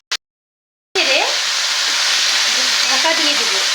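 Chopped cabbage dropped into a pan with fried potatoes, bursting into a loud, steady close sizzle after a brief clatter and a moment of silence, with faint scraping of stirring underneath.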